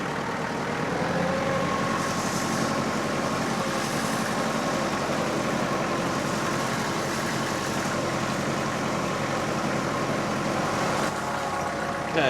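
A tractor engine runs steadily in second gear, a continuous loud rumbling drone with a few faint higher rattles on top and no talking.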